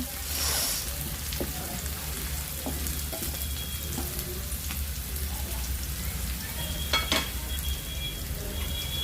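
Curry leaves hit hot oil in a pan while prawn masala gravy is being cooked, giving a steady, close crackling sizzle with occasional sharper pops and spatters throughout, and no talk.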